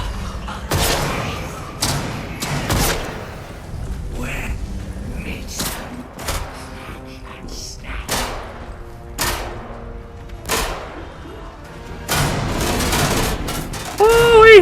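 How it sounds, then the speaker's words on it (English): Gunfire in the video game Atomfall: repeated sharp bursts and volleys of shots at irregular intervals, loud and punchy, with a person talking between and over them. "Okay, that's a lot of gunfire."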